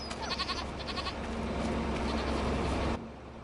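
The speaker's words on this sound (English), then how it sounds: "these are going to be our goats" Goats bleat in a farm pen in Farming Simulator 25, a few nasal calls close together over a steady bed of ambient game noise that drops away at the end.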